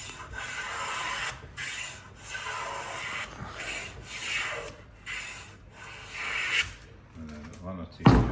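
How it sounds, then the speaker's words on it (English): A hand plane pushed along sawn timber in repeated rasping strokes, each a breathy scraping hiss with short pauses between, close and clear, ending with a sharper knock. "that's one more planing now"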